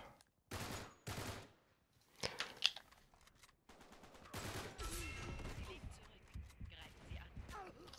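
Gunfire in an Uncharted 3 multiplayer match: several loud bursts of shots early on, followed by more scattered firing under continuous game noise, with a voice talking over part of it.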